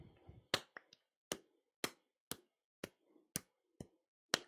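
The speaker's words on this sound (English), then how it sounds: "I'm accidentally clapping with clay in time to the music" Wet clay being slapped between hands while shaping sheep bowls, a series of about nine sharp, close claps at an uneven but steady pace, with faint background music between them.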